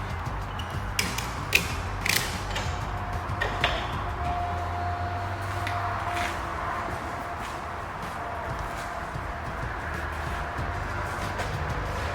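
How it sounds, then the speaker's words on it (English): Tensioning straps are released from a Conestoga trailer, with ratchet clicks, creaks and sharp metallic knocks over a steady background hum, mostly in the first few seconds. "we're going to take our tensioning straps off"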